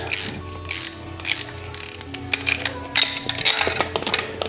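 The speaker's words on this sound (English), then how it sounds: "you take a 17mm and a 5mm hex to hold the middle, and then just undo the nuts" A ratchet wrench clicks in quick bursts while undoing the top nut of a coilover on a 2008–2014 G3 Subaru WRX sedan, loud and close with repeated metallic pawl ticks and short pauses, no talking.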